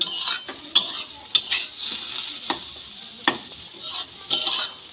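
A spoon scrapes and clinks in a pan of semolina upma, irregular stirring knocks and taps over a soft steady sizzle, close and alone with no talk.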